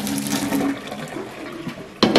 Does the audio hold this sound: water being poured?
yes